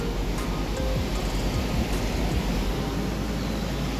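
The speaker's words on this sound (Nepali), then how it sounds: "यता चाहिँ दामी खोला छ" A mountain river in the Lachung and Yumthang Valley area of Sikkim rushes in a continuous broadband roar, steady and fairly close, with no voices.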